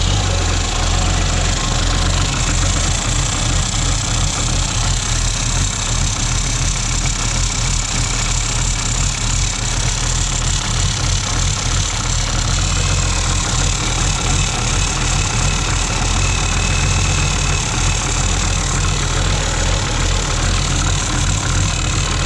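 A diesel backhoe engine, doused with ether and left in neutral, cranks and then runs with a loud, dense, continuous clatter and a steady low rumble throughout, close up and without talk.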